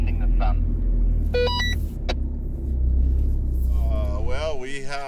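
A car reverses into a spot by a salt pan, a steady low engine rumble and tyre noise running throughout, close by, with a short beep and people talking over it.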